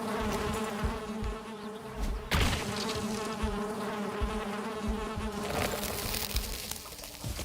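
Bees in the Valheim video game keep up a steady, layered buzzing drone throughout, fairly close and continuous, with no talking.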